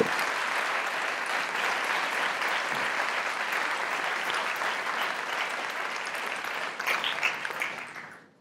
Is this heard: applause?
yes